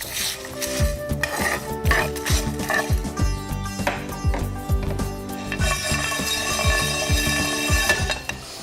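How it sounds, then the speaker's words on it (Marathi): Whole cinnamon stick and bay leaves dry-roasting in a pan over a low gas flame, with repeated metallic clinks and scrapes of a utensil against the pan over a faint sizzle. "एक स्टिक दालचिनी दोन पानं तेजपत्ता चांगल्यापैकी स्लो गॅसवरती ह्याला आपण भाजून घेऊयात"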